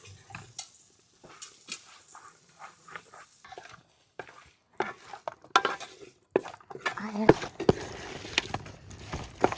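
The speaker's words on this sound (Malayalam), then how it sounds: "മസാലയും ബീഫും ഒക്കെ നന്നായിട്ടൊന്ന് മിക്സ് ആക്കി കിട്ടണം." Beef and masala stirred together in a pot for Kerala-style beef pickle, with irregular scraping and clinking of a spoon against the pan, growing busier and louder toward the end.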